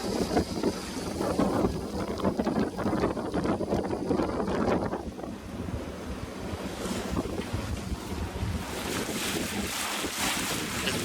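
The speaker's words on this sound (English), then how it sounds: "We have some crazy wind today, up to 25 knots." Strong wind gusting up to 25 knots roars across a double-reefed sailboat under way on the Chesapeake Bay near the Wye River, with steady buffeting wind noise and waves rushing against the hull throughout, and no talking.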